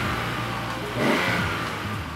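A Nissan Z with a naturally aspirated 3-litre VG30DE DOHC V6 with twin throttles and a tuned exhaust revs close by, a steady mid-pitched engine drone swelling briefly in the middle.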